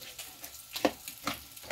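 Creamy coleslaw-style salsa being stirred and mixed in a bowl, giving soft, faint, irregular scraping and squelching taps close by.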